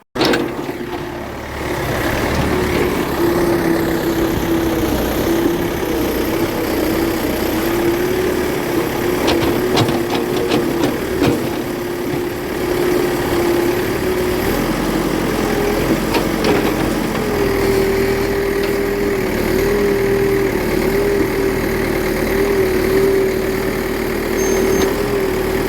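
A JCB backhoe's diesel engine runs steadily at a constant idle-like drone, loud and close, continuing without a break for the whole stretch, with no talking over it.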